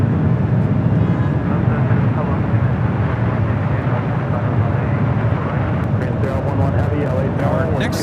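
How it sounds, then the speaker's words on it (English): A Delta Airlines 767-300ER jet takes off for JFK with a continuous loud engine roar, while people talk over it and some sharper clicks and knocks break in near the end. "Delta Airlines 951 taking off to JFK"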